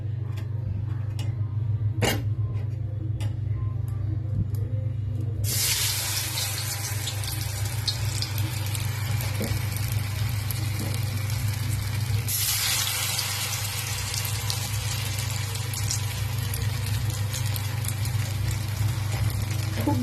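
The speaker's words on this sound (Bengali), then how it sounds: "3-4টে করে আমি বড়াগুলো ভেজে দেব।" Batter-dipped dhoka pieces drop into hot oil to fry a few at a time. A sudden steady sizzle bursts in and swells louder as more pieces go in, over a low constant hum.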